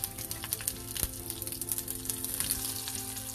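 Mustard seeds, cumin seeds and green chilies sizzle steadily in hot oil, a dense close-up crackle with frequent sharp pops and spits, no voices over it.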